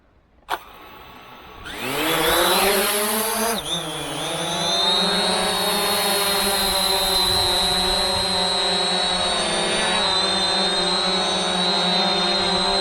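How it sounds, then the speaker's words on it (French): An SG908 camera drone's propellers spin up from quiet into a loud, steady electric buzz with a high whine that holds for about ten seconds, close by. "Le 908 est aussi un très bon drone."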